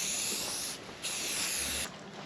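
Loud, close hissing bursts from a spray gun painting panels, two long sprays separated by a short pause, with a brief third spray starting at the end.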